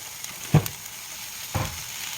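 Ingredients stirred in hot oil for a sweet and savory curry with added sugar, a steady low sizzle broken by two brief scraping stirs about a second apart.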